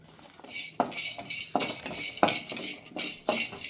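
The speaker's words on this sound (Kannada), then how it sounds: "ನೋಡಿ ಸ್ವಲ್ಪ ಫ್ರೈ ಆಯಿತು ಕಡಲೆಬೇಳೆ" Chana dal and garlic dry-roast in a pan without oil, a utensil scraping and clinking against the metal in regular strokes roughly every second, close and crisp.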